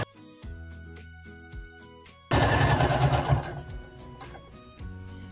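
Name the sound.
sewing machine stitching a long basting seam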